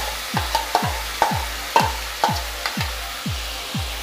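Boiled red amaranth greens stirred in a pan with a ladle, a soft low sizzle under a regular series of about ten quick scraping sweeps and light taps, close and moderately quiet.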